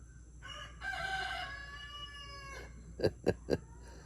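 One full rooster crow rings out, fairly close and drawn out, then three quick sharp taps follow against a constant humming fan background.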